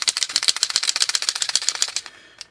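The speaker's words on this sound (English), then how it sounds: "Shake them up, mix the paint around. You can hear that there's a shaker in there to mix the paint." Rapid rattling clicks of a small mixing ball knocking inside a paint marker as it is shaken quickly, close up, then stopping with a final click.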